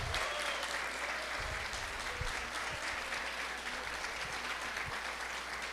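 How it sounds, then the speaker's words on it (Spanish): A church congregation applauds steadily throughout, a dense wash of clapping hands at even strength that fills the whole stretch, with a few low thumps underneath and no clear voices. "¿Por qué no le damos un aplauso"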